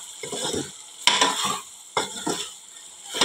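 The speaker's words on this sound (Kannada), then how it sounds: "ಹೈಬ್ರಿಡ್ ಕೋಳಿ ಚಿಕನ್ ಅಲ್ಲ ಹಾಗಾಗಿ ಜಲ್ದಿನ ಫ್ರೈ ಆಗಿರ್ತೈತಿ" Hybrid chicken fries in a pan with salt, giving a steady sizzle broken by repeated scraping stirs in an irregular rhythm, close and moderately loud, with no voices.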